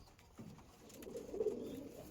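A male Andhra Abluk pigeon gives a soft, low, throaty coo that swells briefly mid-phrase, faint and nearby over quiet background hiss.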